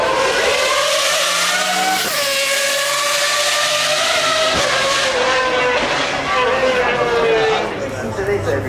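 A 6.62 quad-turbo supercar accelerates up the Goodwood Festival of Speed hillclimb, a loud, close engine howl rising through repeated gear-change sweeps, with a commentator talking over it.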